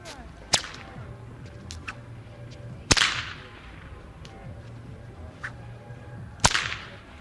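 Three sharp cracks from a long blue whip, over twelve feet, ring out in an open plaza, each followed by a short slapback echo and a quiet reverberant tail, with faint background noise between.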